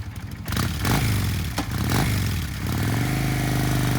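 Engine of a used 1999 Kawasaki Vulcan 800 V-twin cruiser motorcycle, loud and close, with low rumbling revs rising and falling and some clattering before settling into a steady idle.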